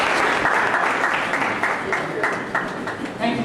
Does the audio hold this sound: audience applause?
yes